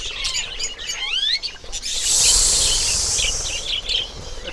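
Pigeons at a private bird farm flap their wings in flight, a rushing, fluttering whoosh that swells near and loud midway, with sharp bird chirps and tweets scattered around it.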